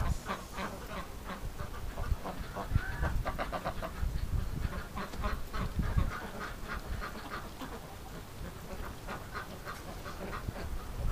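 A penned flock of ducks and geese quacks and honks continuously, a dense, overlapping chorus close by with no talk, steady throughout.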